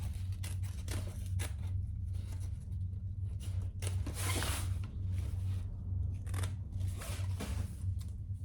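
Scissors snip and rub through fabric while a small box shape is cut out for a crossbody sling bag, a quiet close series of irregular cuts over a low steady hum.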